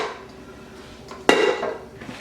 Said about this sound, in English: I'll place my bowl back on my mixer.